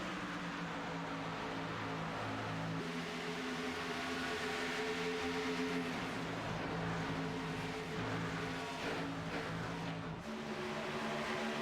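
Race cars at Auto Club in an Elite Racing League event, a continuous layered engine drone of several cars running in line, steady and fairly distant with shifting pitch.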